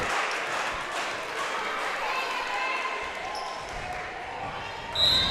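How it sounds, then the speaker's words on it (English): A home crowd cheers for the Girard Trojans girls' team during a high school volleyball match against Fort Scott in a gym. The roar stays steady and fairly loud throughout, with scattered clapping, footfalls and a few blurred voices within the crowd. "As that Trojan crowd over there gets riled up for their Lady Trojans."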